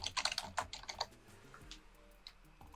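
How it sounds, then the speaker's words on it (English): A short burst of quick keystrokes on a computer keyboard, close and crisp, then a few scattered clicks fading into quiet. "type in calendars"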